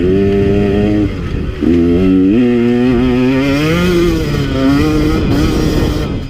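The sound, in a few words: KTM 150 XC W dirt bike engine revving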